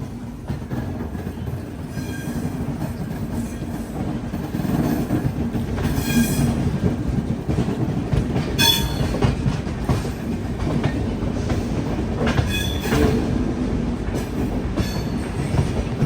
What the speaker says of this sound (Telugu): ప్లాట్ఫామ్ నెంబర్ 1 నుంచి మన ట్రైన్ అయితే బయలుదేరిపోయింది.